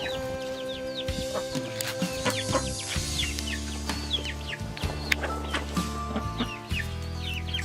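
Chickens cluck and a rooster calls among other fowl on a farm with ducks, layered bird calls continuing steadily over a busy outdoor background.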